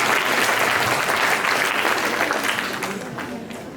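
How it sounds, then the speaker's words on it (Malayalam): A church gathering at a jubilee celebration breaks into loud, dense applause that holds steady and then gradually fades toward the end, with no one speaking. "കൈയടിച്ച്"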